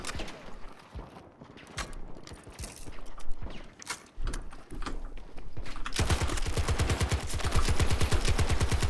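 Rapid automatic gunfire in Battlefield 2042 Portal: scattered single shots and short bursts give way to a loud, sustained stream of rattling rounds in the last few seconds.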